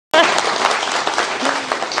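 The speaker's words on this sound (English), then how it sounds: "go on, give them a clap" Wedding guests applaud the couple during the ceremony, a dense, steady burst of clapping that starts abruptly and holds at full strength throughout, with a few voices mixed in.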